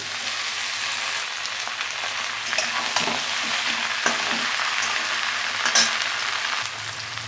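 Steady, close sizzling of taro stolons frying in hot oil with onion and garlic, with occasional louder crackles and stirring scrapes throughout.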